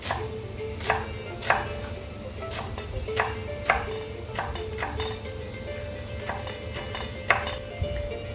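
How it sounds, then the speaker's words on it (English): A knife chops coriander stems on a board in a kitchen, with sharp, fairly regular taps about every half second to second, heard over a steady background hum with a faint tonal ringing. "let's just chop up our coriander stems really fine"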